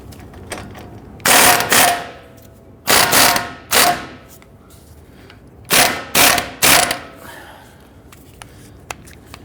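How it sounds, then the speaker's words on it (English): Ratchet wrench on an extension removing an 18 mm nut from the lateral link of a 2010-2019 Ford Taurus rear suspension, clicking in six short quick bursts grouped in pairs and threes, close and loud in a quiet garage. "Let's go ahead and remove the 18 millimeter nut off of your lateral link."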